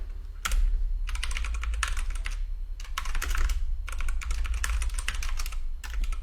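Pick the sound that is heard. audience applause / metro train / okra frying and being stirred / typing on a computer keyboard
typing on a computer keyboard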